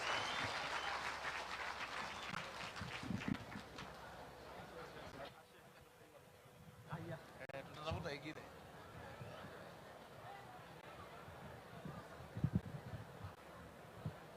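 An audience at a political gathering applauds the deputy president with a spread of clapping that rises, thins and returns, while voices and crowd murmur carry over it.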